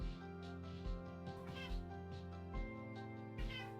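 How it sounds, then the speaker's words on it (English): A cat meows a few times over steady background music and game sounds during a live gaming stream; the calls are moderately close but partly blended with the music bed. "The beast has awoken. What up, cat?"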